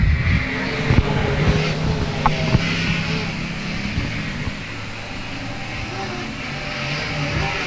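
Race cars lapping the oval at South Texas Speedway, a loud continuous engine roar with shifting drone and passing pitch, and an announcer talking over the noise.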